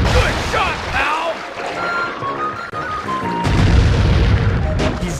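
Cannon fire and heavy booms in the video game Sly Cooper 3, layered with game music and effects, a dense loud wash with a stronger blast partway through.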